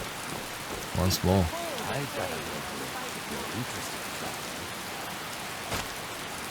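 Steady rain falls in Skyrim, an even hiss throughout, while voices speak briefly over it.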